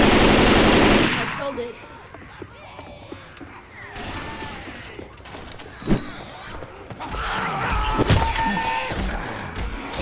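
Assault rifle gunfire in Left 4 Dead 2, a loud rapid automatic burst at the start that cuts off, followed by scattered single shots, thuds and mechanical clatter amid game noise, with voices talking at points.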